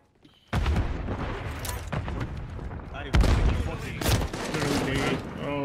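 Shotgun blasts and other gunfire in a Call of Duty: Modern Warfare III team deathmatch, sharp loud reports cutting through continuous game noise, with a voice talking over the action.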